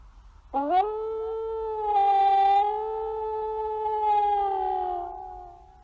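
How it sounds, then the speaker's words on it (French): A sustained, steady, tonal howl rises sharply and holds for about five seconds, clear and prominent with no talk over it, as a wolf pack sings together on a mountaintop at night. "C'est le chant des loups."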